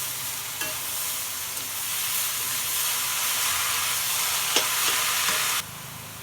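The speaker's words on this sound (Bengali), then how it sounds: "এবার আমি থোড়গুলো দিয়ে দিব।" Banana stem stir-fried in a pan with onion, chilies and garlic gives a continuous close sizzle with occasional light clinks of a spatula, stopping abruptly near the end.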